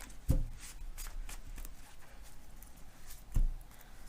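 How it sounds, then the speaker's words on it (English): Tarot cards being shuffled close by, soft riffling patter with two sharper taps near the start and end. "These ones always shuffle so smooth."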